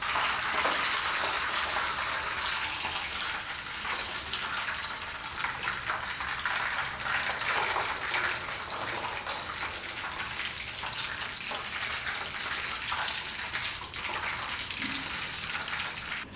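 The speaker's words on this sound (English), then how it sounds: "now I'm gonna fry the sides for a few seconds" Pork belly fries its sides in a pan with a steady, bright sizzle and crackle that continues unbroken at moderate volume throughout, with no voices.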